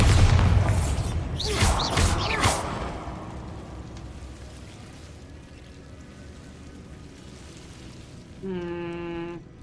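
A Bombarda explosion spell goes off in Hogwarts Legacy, a loud burst of booming blasts early on that fades into a lingering rumbling tail, followed near the end by a bright chiming tonal game effect.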